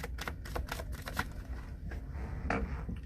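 Tarot cards are shuffled by hand in a steady, close run of crisp riffling and flicking with no talk.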